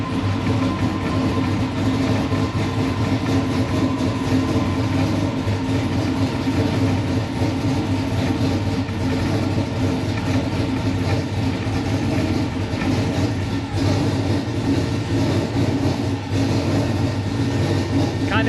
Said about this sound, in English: it started right up, it's idle and perfect.